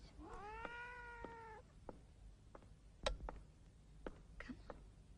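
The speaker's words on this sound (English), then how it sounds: "Such a good little kitty, aren't you?" A house cat gives one long, drawn-out meow, followed by quiet scattered clicks and taps in a hushed room.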